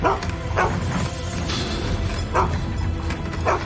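A dog barks in a house during a paranormal investigation, sending out a few short separate barks over a loud, steady background rumble.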